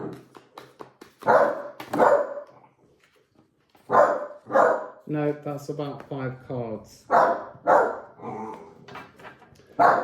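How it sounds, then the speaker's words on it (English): A dog barks repeatedly at close range, with sharp yips and a whiny run of barks, while a person talks in between. "She's just going to bark at me until I look at her."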